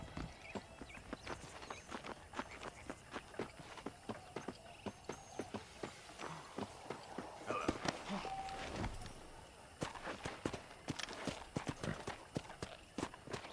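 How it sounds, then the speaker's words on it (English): Horse hooves clip-clopping in a quick, steady rhythm close by in Red Dead Redemption, with a brief whinny partway through and a faint background bed. "The horses are saddled up over here."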